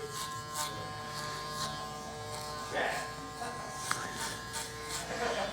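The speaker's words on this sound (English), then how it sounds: "You can hear them getting cut too." An electric hair clipper buzzes steadily and close up while cutting hair during a bald fade, with a soft crackle of hairs being clipped beneath the hum.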